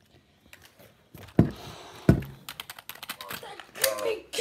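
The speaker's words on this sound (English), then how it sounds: "But I still got my gaming keyboard." Rapid bursts of typing on a gaming keyboard, with clustered key clicks and a couple of heavier thumps, loud and close.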